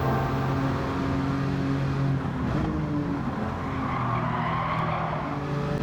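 Race cars in a Gran Turismo 7 drag race, engines droning loudly with a sustained high-revving tone and a faint tire squeal, holding steady and close throughout.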